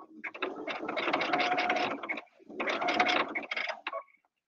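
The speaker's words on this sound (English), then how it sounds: "So let's quickly sew this away" A sewing machine stitches through several thick layers of a quilted apron in two loud, steady runs with a brief pause between them, the second burst slightly shorter.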